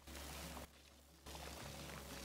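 Water pours steadily in the co-op video game It Takes Two, a continuous close rush with a brief drop-out partway through before resuming.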